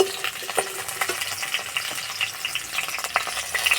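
Okra sizzling in a wok of oil, a steady crackling fry punctuated by sharp spatula scrapes and taps against the pan, close and fairly busy throughout.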